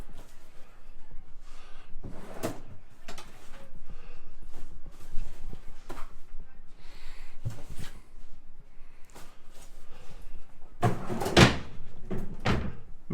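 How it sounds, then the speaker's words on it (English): Drawers slide open and shut while someone packs for a Disney World stay, with scattered thumps and clunks across the stretch and a louder cluster near the end. "Make a little bit of noise there with the drawers."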